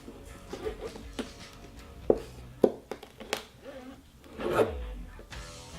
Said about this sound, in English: Trim this little flap off here.